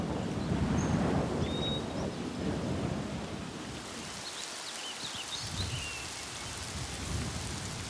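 Steady rain falls outdoors by a riverbank, with a low rumble of thunder early on and a broad hiss of drops and light wind throughout, fairly close and continuous with no voices.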